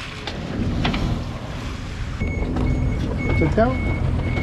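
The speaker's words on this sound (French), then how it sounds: "Ça, c'est le signal de détresse." A VHF radio aboard a sailboat sounds a distress signal, its short electronic beeps repeating over steady wind and boat noise, with a voice heard briefly.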